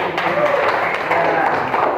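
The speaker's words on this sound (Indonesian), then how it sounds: "saya kira pintar semua, tepuk tangan dulu" A group claps continuously, a dense steady patter of many hands at moderate loudness, with voices murmuring underneath.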